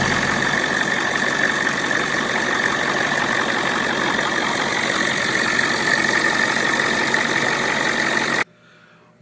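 Old van engine running after a fresh pair of batteries was fitted, a loud, steady idling drone with a rough mechanical rattle that continues unchanged until it cuts off abruptly near the end, no voices.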